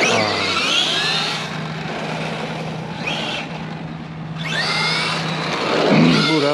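A Traxxas XRT RC monster truck with a Castle MMx8s motor system drives past, a high-pitched electric motor whine swelling and fading in two passes, fairly loud and close with no talk.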